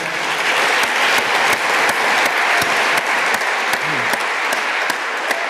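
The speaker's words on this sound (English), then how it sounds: "Maybe the perfect moment for you to clap" Conference audience applauds at a privacy session, a loud, sustained wash of clapping with sharp individual claps standing out near the microphone throughout.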